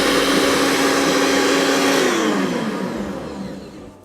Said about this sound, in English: And I'm just going to whisk it some more.